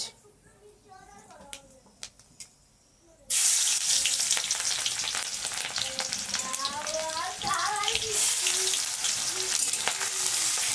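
Onions hit hot oil in a wok with dried red chilli and start frying. After quiet moments with a voice, a loud steady sizzle bursts in and continues while a voice talks over it.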